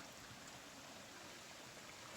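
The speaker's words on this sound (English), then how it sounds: "I found the stream." A stream flowing beside a hiking trail on the Appalachian Trail after rain, a steady, broadband rushing wash of water that stays even and continuous throughout, close by and without any voices.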